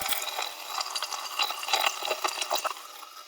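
Dirty water drains out of a sink, a close, steady gurgling and sloshing flow with bubbly rushes throughout and no talk.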